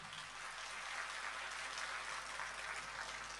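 A crowd at a Kavi Sammelan and Mushaira in Dubai applauds to welcome an ETV senior manager, producing steady, dense clapping that holds at an even level throughout with no voices.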